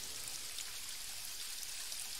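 Steady rain falls in a video game as a continuous soft hiss of drops, even and unbroken throughout, with no voices over it.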